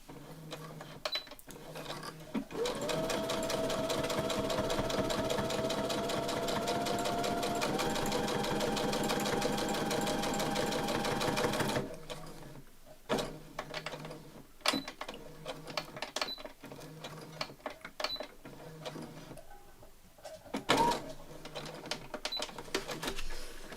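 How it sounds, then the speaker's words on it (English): A sewing machine stitches across a strip of lace, whirring in one long steady run up close, then in short stop-start bursts. "So I'm just going to sew across that lace."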